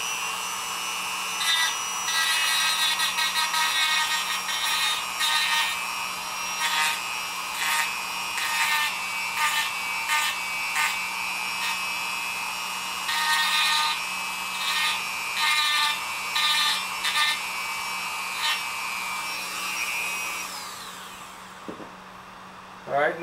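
A steady high-pitched whine of a power sander runs for most of the clip, pulsing slightly as it sands an aluminum firesteel handle, then stops near the end.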